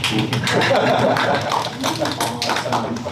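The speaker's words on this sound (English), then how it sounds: "As we pause for applause" An audience at a county Board of Supervisors transportation work session claps steadily for about three seconds, with dense, close, even clapping and a few faint chuckles mixed in.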